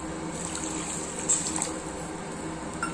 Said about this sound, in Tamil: கொஞ்சம் தண்ணி கலந்துக்கலாம்.